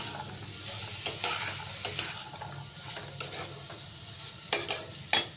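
Boiled chickpeas and peas are stirred in a pan with fried ingredients over a faint sizzle, the spatula giving repeated scraping clicks and taps at an uneven pace.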